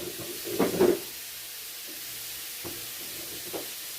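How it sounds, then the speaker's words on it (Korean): Rice is stir-fried in pork belly fat, with a soft, low sizzle and a couple of scraping stir strokes. A brief louder clatter comes early, then quieter scrapes follow. "삼겹살 기름이다 볶아 먹어."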